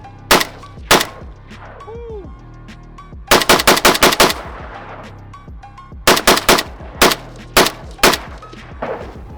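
A modern AK rifle firing AK ammunition outdoors, loud sharp shots in single reports and rapid bursts of four to six rounds, with pauses between strings.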